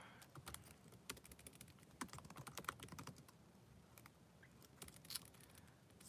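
Steady typing on a computer keyboard, a brisk run of light, close key clicks in uneven bursts with short pauses, no one speaking.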